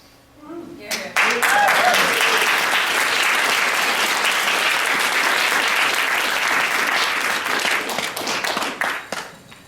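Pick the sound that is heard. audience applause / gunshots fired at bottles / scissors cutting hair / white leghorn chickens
audience applause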